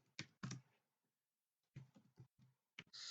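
Quick bursts of keystrokes on a computer keyboard, clustered clicks separated by short pauses, close and fairly quiet with no talking.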